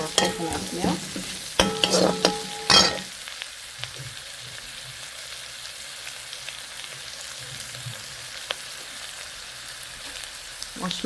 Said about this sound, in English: Fry the rice and then we're going to add our coconut milk.